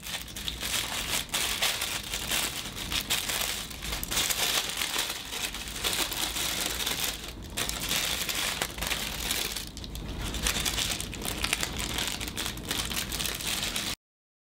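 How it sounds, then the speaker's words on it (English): Tissue paper wrapping from a MAC mini lipstick kit crinkles and rustles steadily and up close for the whole stretch, dry crumpling with brief pauses and no talking. "It comes wrapped up in this tissue paper."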